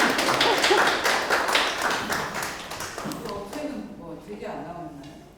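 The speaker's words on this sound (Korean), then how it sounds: "박수 한번. 격려의 박수 한번." An audience at a lecture on Paju chemical accident preparedness claps in encouragement, a burst of brisk clapping that fades out as someone starts talking.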